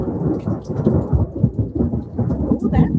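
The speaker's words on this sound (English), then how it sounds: "And thunder." Thunder rumbles continuously through a thunderstorm with rain falling, a broad, loud low roll that swells and pulses over three seconds with no speech.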